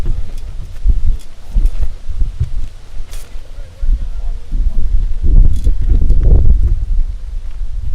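Gusty wind buffets the microphone at an outdoor high school baseball game, coming as low rumbling bursts that rise and fall unevenly throughout.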